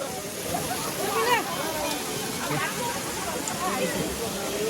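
Water gushes steadily from the 108 stone spouts at a temple in Mustang, a constant broad rush with people talking over it close by.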